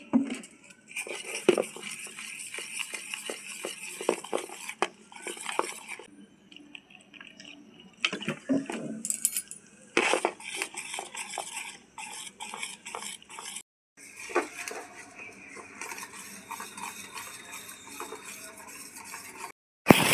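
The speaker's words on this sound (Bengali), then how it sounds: "এবার অল্প অল্প জল দিয়ে আমি ভালো করে ফেটিয়ে নেব।" Besan gram flour batter is whisked with small additions of water: rapid, uneven tapping and sloshing against a bowl, close and continuous, with a short break midway.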